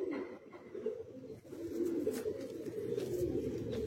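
A flock of Kalsira Madrasi high-flying pigeons keeps up a steady, overlapping low cooing nearby, the rolling burble dipping briefly before swelling back and holding level to the end.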